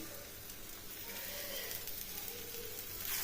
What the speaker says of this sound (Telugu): ఇలాంతా దోశ వేసి పెట్టుకున్న తర్వాత పైన కొద్దిగా మనం ఆయిల్ వేసుకోవాలి.